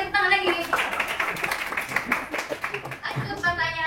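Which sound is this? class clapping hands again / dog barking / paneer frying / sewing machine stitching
class clapping hands again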